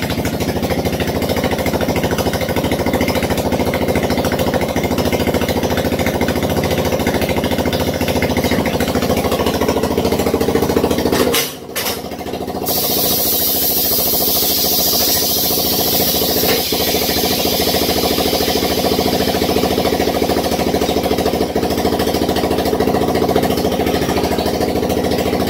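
A Honda CT110 Postie Bike with a minor exhaust leak idles loudly and close, its small engine chugging in a steady rhythm, briefly cutting out midway before settling back into a continuous idle.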